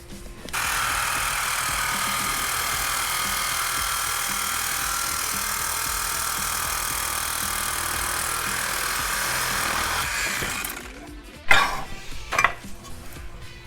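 A power cutting tool slices through a part while S13 coilovers are fitted to an MX83 Cressida. It gives a loud, steady buzzing roar for about ten seconds, then cuts off, followed by a few sharp metallic clanks.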